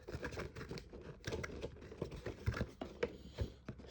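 A NECA Leatherface action figure is unpacked from its box, giving faint, close rustles, taps and small cardboard and plastic handling clicks in an irregular patter.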